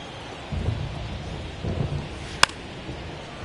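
Rain falls during a baseball video game, a soft steady hiss beneath two low rumbling swells and a single sharp click near the end, with no speech.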